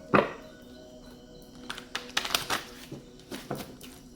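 Tarot cards being shuffled by hand for a reading, a crisp riffling burst at the start followed by scattered papery taps and slides, close and fairly quiet with no talking.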